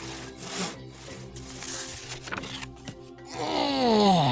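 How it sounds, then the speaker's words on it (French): A large carpenter's saw rasps back and forth through a wooden bow and arrows in uneven, scraping strokes, close and loud, then gives way to a rising whine at the end. "Il part chercher la grande scie du menuisier et il scie l'arc et les flèches de Boum Boumé."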